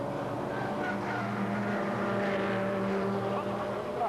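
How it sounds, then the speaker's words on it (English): Ferrari and Porsche race cars run side by side at the Zandvoort circuit, their engines blending into a continuous loud roar with shifting tones, heard at steady volume. "Ferrari, Porsches at the front here, absolutely side by side."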